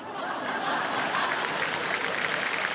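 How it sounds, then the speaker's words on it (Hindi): A studio audience at a KBC quiz show session claps loudly and continuously, a dense wash of applause with faint chuckles mixed in. "इतने जोर से ताली बजाया"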